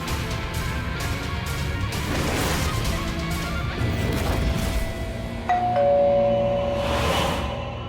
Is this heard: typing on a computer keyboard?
no